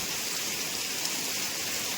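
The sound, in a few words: heavy rain pouring, water running on road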